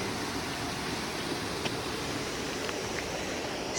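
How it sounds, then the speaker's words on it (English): A river in the Quinault rainforest rushing below a hiking trail, a steady, even hiss of flowing water heard from a distance, with only a few faint ticks on top. "And there's the river down there."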